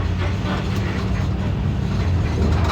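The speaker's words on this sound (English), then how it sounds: "please stay seated while the train is in motion" A tour train rolls around Daytona Speedway with a steady rumbling, clattering mechanical drone and rattling wagons, close and continuous with no talk.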